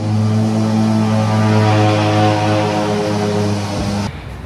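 A supercar engine in a parking lot holds a loud, steady droning rev with strong harmonic tones, then cuts off abruptly near the end, heard up close without talk.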